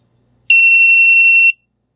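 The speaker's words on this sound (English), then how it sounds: "It'll buzz." A small buzzer driven by a Raspberry Pi Pico lets out one steady, shrill electronic tone lasting about a second, loud and close, with quiet before and after.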